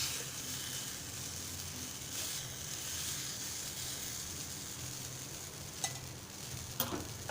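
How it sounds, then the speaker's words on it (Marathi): Malvani-style malpua batter fries in oil on a griddle, giving a steady close sizzle with a few sharp utensil clicks near the end. "मालपोळ्याचं मिश्रण तव्यावर घालूया"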